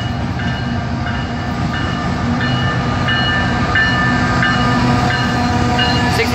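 An intermodal freight train rolls past on track 1 at Roseville, a loud, close, steady rumble of wheels and cars with faint repeating squeals and clicks along the rails.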